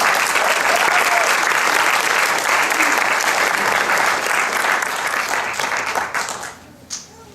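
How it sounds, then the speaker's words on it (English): At a mathematics graduation ceremony, an audience claps in steady, full applause for several seconds before it thins out and stops, leaving a last scattered clap. "let's give them all a big round of applause"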